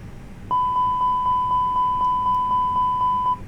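An Airbus cockpit warning alarm sounds during an engine failure test, a loud, steady electronic tone pulsing in rapid, even repeats for about three seconds before stopping, with no talk.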